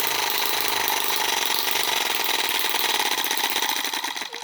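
A Microcosm Eachine M18 model engine running at a close, steady, buzzing mid-pitched drone with a fine rapid pulse, fading slightly at the very end.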